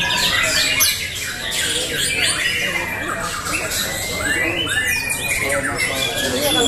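An oriental magpie-robin (murai batu) sings at a songbird contest, its loud, busy whistles and squawky chirps sliding up and down repeatedly over a dense din of other competing birds and crowd noise.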